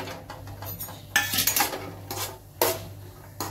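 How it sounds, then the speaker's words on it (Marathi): Cashews are dropped into well-heated oil in a pan for a cashew palak masala, giving several sharp bursts of sizzling, each fading back between additions, with metallic pan clatter and no talking. "तेल चांगलं तापलंय, त्याच्यात आपण आता काजू टाकूया।"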